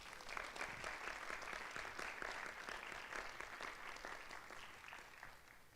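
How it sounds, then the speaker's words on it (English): Applause at a school board of education meeting, with a room full of people clapping steadily and densely at moderate volume for the whole stretch, with no voices over it. "I think that deserves another round of applause."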